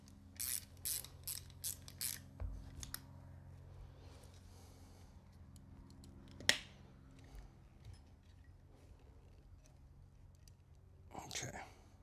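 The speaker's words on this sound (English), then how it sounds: "Let me take these limb bolts out a little bit more." Limb bolts backed out on a bow with heavy limbs during assembly: quiet, close ratcheting clicks in a quick run, then faint scattered mechanical ticks and a sharper snap, with soft low room hum beneath.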